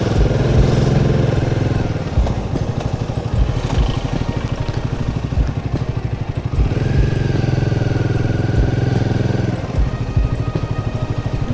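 Motorcycle engine idles at a busy police check post on a mountain road toward Leh, a steady loud chugging putter with clattering pulses throughout, close by, with faint voices in the background.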